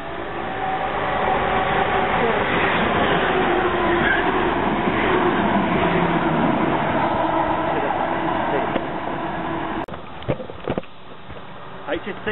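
An HST train passes at Knebworth with a loud, sustained roar and rumble for about ten seconds before the sound drops away to quieter rattles.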